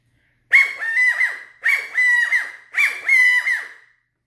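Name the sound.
valley/Gambel's quail stick call blown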